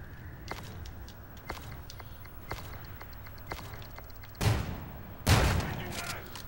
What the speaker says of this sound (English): Shooting just to be a safe side